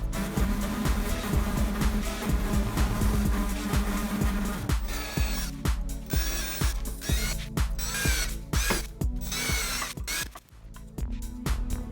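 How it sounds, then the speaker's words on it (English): A jigsaw cutting quarter-inch MDF sides, a loud continuous motor buzz with rapid rhythmic chattering strokes, steady and close, briefly dipping near the end. "So now I'm cutting the 1/4 inch MDF sides."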